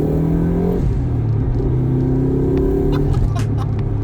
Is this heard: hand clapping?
no